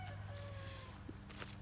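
Chickens kept behind trees next door cluck faintly in the distance under a steady low background hum, with a couple of brief soft calls.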